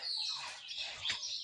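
A small bird chirps and tweets at a window pane while fighting its own reflection. Quick, faint, high-pitched chirps repeat in bursts over a quiet background.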